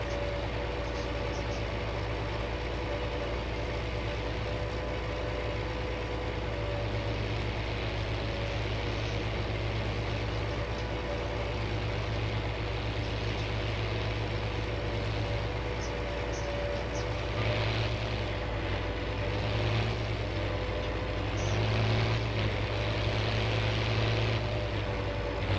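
A tractor engine drones steadily in a farming video game, pulling implements across a field, a constant low hum with a faint whine on top, running alone without talk.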